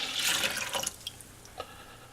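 Lukewarm water at 95 degrees is poured from a container into a bread dough mix of flour and yeast, a brief splashing gush that tapers off into a few small drips and trickles.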